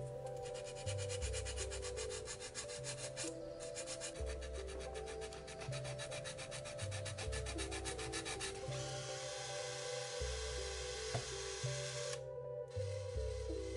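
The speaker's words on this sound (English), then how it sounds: "cutting off the bottom and then cutting out these grooves in the side to fit the" Steady rasping and scraping from cutting and filing grooves into the side of a kitbashed model pirate ship, a continuous close rubbing texture with a low hum and no talking.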